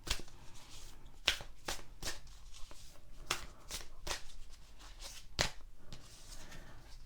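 Tarot cards being shuffled by hand, soft close riffling and slapping with several crisp bursts at an irregular rhythm, quiet and alone with no talking.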